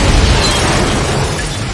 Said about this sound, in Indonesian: pas tuh orang nyalain mobilnya, meledak tuh mobil